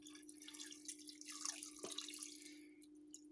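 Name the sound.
pouring broth into a cooker for boeuf bourguignon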